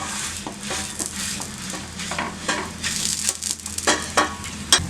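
Paruppu poli cooking on a dosa tawa gives a continuous close sizzle with scattered scraping and tapping from a spatula, growing a little busier toward the end, no voices.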